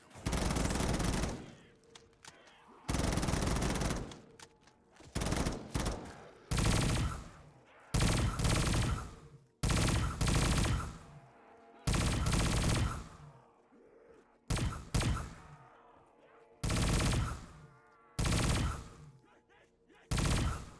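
Bursts of automatic gunfire from a gun in Black Ops 3 custom Zombies, repeated loud sprays of rapid shots separated by short pauses, close and dominant throughout.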